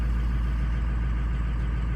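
Steady low idle of a car engine after a cold start, its injectors suspected faulty, a continuous close hum with an even, fairly smooth throb and no talk over it.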